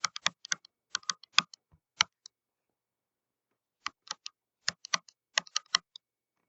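Quick tapping on a computer keyboard comes in two brisk bursts of close, crisp key clicks separated by a silent pause of under two seconds, with no voices.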